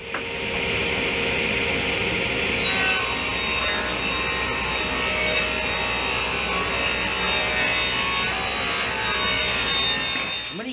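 Pine boards for a face frame are cut with a continuous, loud saw whine and rasp that runs steadily throughout without pause.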